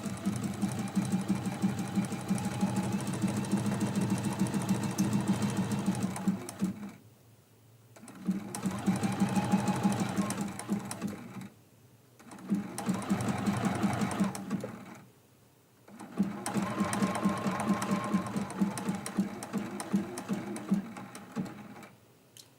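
Sewing machine stitching around a leaf appliqué on a quilt block, running in four long steady bursts of rapid rhythmic needle clatter with brief pauses between for pivoting.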